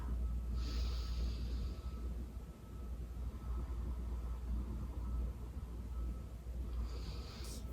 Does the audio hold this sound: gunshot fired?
no